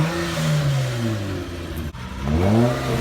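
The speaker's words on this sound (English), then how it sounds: "He's gonna give it a rev for you guys, a little brap." A 2003 Acura TL Type S with its muffler deleted revs close by: the engine note falls as one rev winds down, then rises sharply into a second blip.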